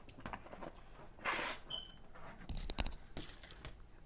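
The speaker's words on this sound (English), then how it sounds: "Sorry about the chirping noise there." A smoke detector with a low battery gives one short, faint, high chirp in a quiet home kitchen, set against soft scattered clatter from soup preparation.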